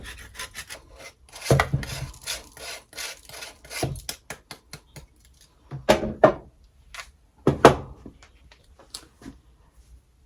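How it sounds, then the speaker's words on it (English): A very hard bar of soap scraped across a grater in short rasping strokes, close and dry, in uneven bursts separated by pauses, with no talk over it. "this soap, when I grate it, it's very fine"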